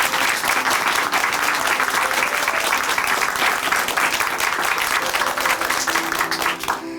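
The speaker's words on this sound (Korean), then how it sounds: "다시 한번 은미 자매님께 큰 박수 보내드릴게요." A church congregation gives sustained, dense applause, loud and even from start to finish as a crowd of many hands claps together.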